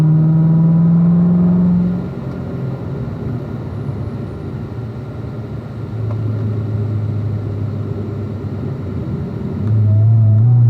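In-car sound of a race car on track: loud engine drone drops as it brakes into a corner, holds steady through the apex, then climbs again as it accelerates out, with constant road and wind roar throughout.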